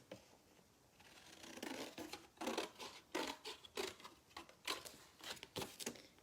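Scissors snip repeatedly through card for a paper lampshade band, a close run of crisp cuts, no voices.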